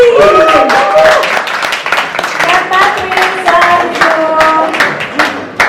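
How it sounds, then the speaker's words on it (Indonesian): A press-conference crowd claps for a film's first-look launch, a dense, loud burst of applause with scattered hand claps, mixed with overlapping voices and a tonal sound in the background. "Kita kasih tepuk tangan yang paling meriah untuk Ibu Patricia Gunadi."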